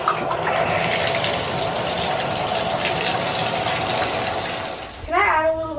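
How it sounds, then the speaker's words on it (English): Tap water runs steadily in a home kitchen, a broad continuous rush that stops abruptly near the end, followed by a brief burst of children's voices. "Can I add a little bit of water?"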